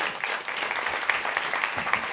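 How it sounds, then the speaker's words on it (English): A festival audience claps as panelists come on stage, a steady patter of many hands filling the room for about two seconds with no voices over it. "you guys can give them applause."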